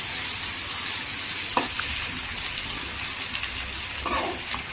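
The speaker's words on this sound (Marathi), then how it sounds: "कांदा गोल्डन कलरवर चांगला असा तेलावर परतून घ्यायचा।" Onion sautéing in oil until golden for a dried shrimp curry, giving a steady, bright sizzle with a couple of brief stirring scrapes, close and continuous, with no voices.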